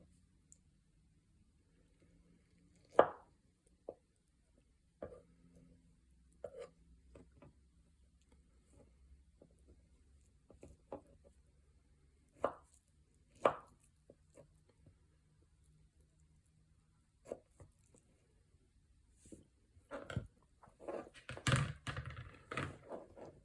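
A knife cubing small golden beets on a board, sparse sharp chops spaced several seconds apart in a quiet room, growing into a denser burst of rapid cuts at the end.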